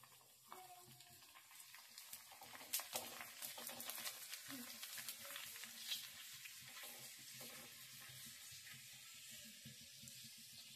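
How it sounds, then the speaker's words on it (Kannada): Readymade puris slipping into hot oil and frying for masala puri make a steady soft crackling sizzle, with a few louder splashes and clatters near the start. "ಮೊದಲು ಎಣ್ಣೆಗೆ ಹಾಕಿ ಕರ್ಕೊಳ್ಳೋಣ ಇವನ್ನ"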